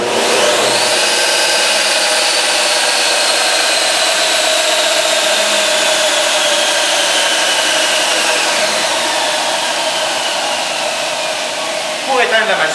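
A KING disc and belt sander runs with a loud, steady whirring drone that holds evenly throughout, with a brief shift in tone near the end.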